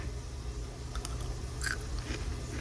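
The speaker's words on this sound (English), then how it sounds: "That's kind of gross, me crunching on camera" Quiet, close crunching bites on blanched green beans, a few sharp crackles over a low background hum.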